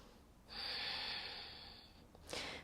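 A single slow, audible breath is drawn in and released through the nose during a yoga flow, soft and close in a quiet room.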